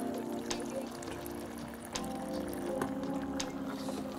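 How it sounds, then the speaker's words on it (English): Water is poured into a pot of biryani as it cooks: a soft, continuous liquid pour and splash, heard close up at low volume with a few small clinks and no talking. "And now we're gonna add a little bit of water as liquid."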